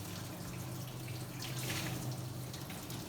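Running water steadily rinses a dog during a bath at a grooming session, a continuous close splashing spray with soft dripping and no voices.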